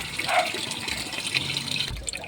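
Water runs steadily into a container filled by a machine on its level 10 setting, a close gushing, splashing flow that shifts in tone as the level rises, with a brief pause near the end.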